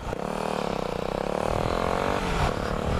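A supermoto motorcycle engine runs hard during a sit-down wheelie, shifting from second into third, giving a loud, buzzy, continuous drone with a rapid pulsing rhythm up close and no voices.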